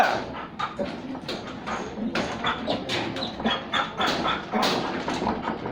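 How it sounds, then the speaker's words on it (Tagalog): A dog yelps and whimpers repeatedly in short, excited bursts, fairly close, with a few faint voices mixed in. "Ayan o, sutil na aso, maingay na aso."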